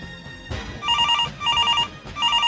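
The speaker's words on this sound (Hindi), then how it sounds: "प्रताप कोठी में फ़ोन की घंटी जोर जोर से घनघना रही थी।" A telephone bell rings loudly in repeated bursts of rapid electronic trills, three rings in quick succession with short gaps between them, close and clear.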